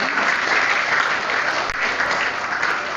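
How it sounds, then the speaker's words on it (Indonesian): Training participants applaud together in a dense, steady burst of clapping that fills the room, loud and sustained, with no pauses. "Luar biasa, tepuk tangan."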